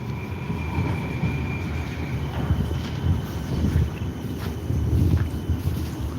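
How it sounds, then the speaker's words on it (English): A train rolls past outdoors with a steady low rumble and rattling wagons, wind buffeting the microphone throughout and the noise swelling slightly toward the end. "We got the free train out here."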